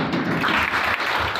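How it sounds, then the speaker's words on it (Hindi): Audience applause at a village ceremony launching the Jal Jeevan Mission, a steady crowd clapping that fills the moment without any talk. "तालियां"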